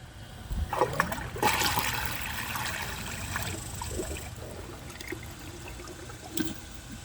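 A 2007 Crane Elite front-flush toilet drains after a flush, a swirling watery gush that rises quickly then fades to trickling and gurgles, fairly faint and close.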